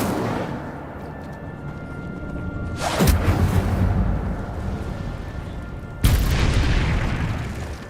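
Incendio fire spell cast in the video game Hogwarts Legacy, two loud whooshing bursts of flame a few seconds apart, each a sharp onset followed by a sustained roaring rush over a steady cave ambience.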